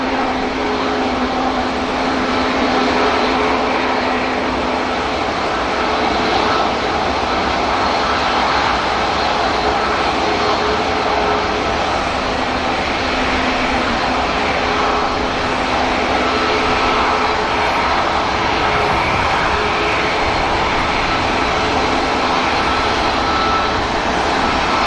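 Ryanair and TUI airliners at Manchester Airport fill the air with a sustained, loud jet engine roar, steady throughout with faint tonal hums underneath and no talk.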